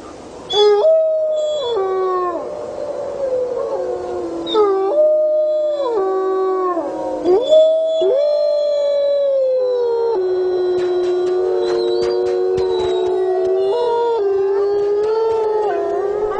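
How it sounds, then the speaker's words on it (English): Several wolves howl together in long, overlapping, rising and falling tones, some wavering, continuing throughout without pause. "accumulating an archive of the pack's howls"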